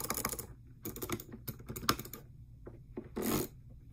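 A lightweight Glorious Model O gaming mouse being clicked: sharp, close clicks in irregular bursts, some quick repeated taps, with a brief rustling swell near the end and no voices.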